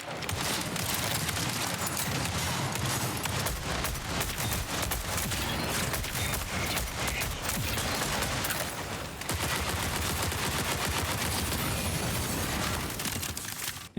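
Gunfire in the video game Marathon comes as dense, continuous bursts of rapid shots that run almost without pause, loud and close, with a brief gap before another long volley.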